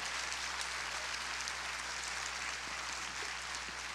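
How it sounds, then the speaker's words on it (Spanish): A church congregation applauds during a worship service, a dense, steady wash of clapping that holds evenly for the whole stretch without voices rising above it. "Dale fuerte ese aplauso al rey, por favor."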